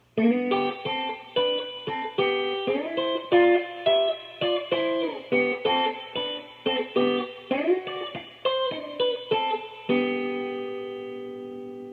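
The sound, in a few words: guitar fill from a song played slowly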